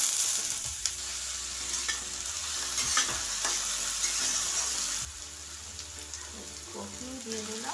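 Potatoes fry in hot oil with white cumin and bay leaf, a close, dense sizzle with stirring scrapes that drops to a softer hiss partway through, while a voice briefly speaks near the end.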